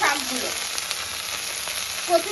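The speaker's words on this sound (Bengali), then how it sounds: "এবার একটা কড়াইতে তেল গরম করে আমি এর মধ্যে দিয়ে দেবো দুটো কাঁচা লঙ্কা।" Green chillies fry in hot oil in a wok, giving a steady, close crackling sizzle with a few brief spits and a soft stirring scrape, and no voices.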